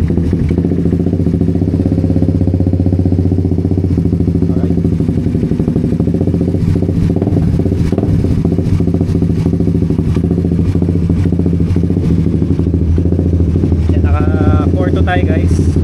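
A Suzuki GSX 150 motorcycle, after a fuel pump error, starts and settles into a steady, loud idle that runs throughout, with a voice talking briefly over it near the end.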